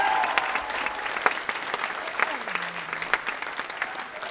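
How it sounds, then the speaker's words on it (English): Audience applause fills a talent show hall, steady dense clapping from a large crowd throughout, with a faint voice or tone briefly audible underneath. "Can everybody please give a big round of applause?"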